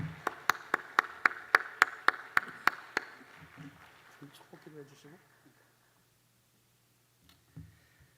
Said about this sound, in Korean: 우리 뜨겁게 박수로 모시겠습니다.